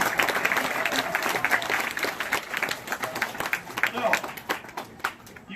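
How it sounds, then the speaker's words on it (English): Audience applauds an alligator wrestling volunteer at an outdoor show, dense clapping from a crowd throughout with scattered cheers. "Let's give our volunteer a round of applause here."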